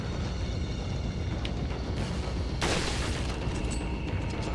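A single loud, booming gunshot cracks out midway through a constant rumbling background in Resident Evil 4, followed by faint mechanical clicks of reloading.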